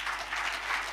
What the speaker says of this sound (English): a hand of applause for the speaker